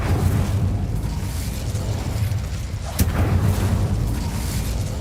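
An Incendio fire spell goes off in Hogwarts Legacy with a loud, roaring burst of flame that rumbles on without a break, and a short crackling pop lands near the middle.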